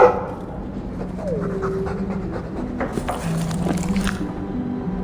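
A Mabari war dog in Dragon Age pants quickly and audibly up close, breathing in a quick steady rhythm, with a faint whine and some soft background tones.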